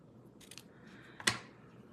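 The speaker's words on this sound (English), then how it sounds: "So let me cut off this end and this end," Scissors snip through a paper craft piece for a pumpkin-themed card project: a couple of faint soft snips, then one sharp, close cut standing out in a quiet room.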